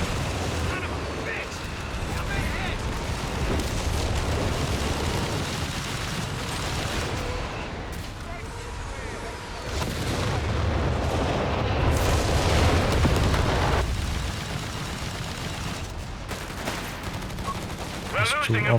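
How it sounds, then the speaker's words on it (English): Artillery barrage in the strategy game Company of Heroes 3, with dense overlapping booms and rumbling explosions filling the whole stretch, layered with battle noise and a voice talking over it. "Officer bringing down the artillery again, forcing some retreats."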